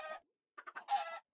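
A Minecraft Bedrock chicken clucks in a short burst inside an automatic chicken cooker, then gives several quick clucks and a longer squawking call, fairly quiet and close.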